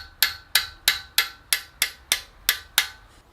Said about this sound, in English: just start tapping the end of the spanner